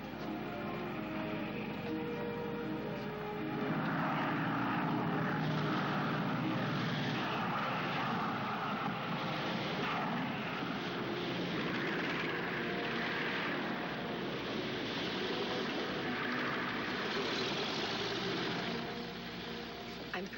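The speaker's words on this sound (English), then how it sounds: "Alma, the plane." Steady propeller airplane engine drone holding at a constant level for about twenty seconds, a broad continuous roar with faint background noise.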